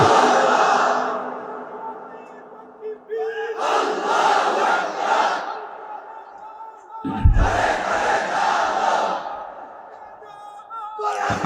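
A large crowd at an Islamic waz sermon gathering chants Allahu Akbar in loud, echoing bursts, with a single voice first and then two massed shouted responses separated by short pauses.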